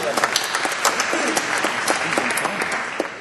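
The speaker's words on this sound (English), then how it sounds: "Round of applause for Steve, ladies and gentlemen." An audience at a media-agency CEOs' quiz event applauds a contestant with a loud, dense burst of clapping, and voices are heard over it.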